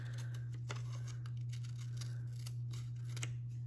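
Scissors trimming quilt fabric pieces, a rapid series of crisp snipping cuts close up over a steady low electrical hum, with no talking.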